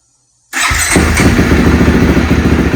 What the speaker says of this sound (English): now we're going to start it up and just double check and make sure everything is where it needs to be